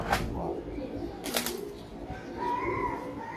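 Breeder pigeons of the Silver Bezi type coo softly and intermittently, with a few wing flaps and chirps, against steady low background noise.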